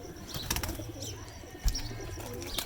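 Teddy pigeons on a rooftop give soft, low cooing calls in a continuous murmur, with a few brighter chirps and a brief flutter or bump near the end.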